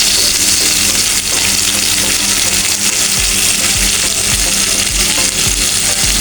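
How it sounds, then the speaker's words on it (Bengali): Whole hilsa fish frying in a pan, a loud dense sizzle with bubbling crackle and occasional scraping stirs, close up with no talking. "দেখেন আমার মাছটা ভাজি হয়ে গেছে"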